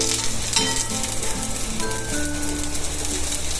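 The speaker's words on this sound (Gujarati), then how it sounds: "હવે આ ખાડામાં નાખી દઈશું આપણે તેલ" Thalipeeth frying in a pan over low heat as oil goes into its holes, giving a loud, steady sizzle with scattered crackles and a few faint tonal clinks, no speech.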